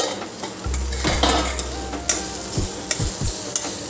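Taro (kochu) fry being stirred in a pan, with soft scraping and a few sharp metallic clicks of the spoon against the pan over a faint sizzle.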